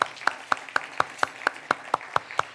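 Church congregation clapping in unison during a Spanish-language sermon, sharp claps landing at a steady rhythm of roughly four per second, about ten distinct beats, loud and close with light room reverberation.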